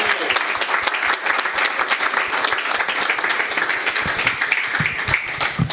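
A church congregation applauds Bernard with sustained crisp clapping, individual claps distinct within the crowd's steady roll, lasting the whole span at a consistent level.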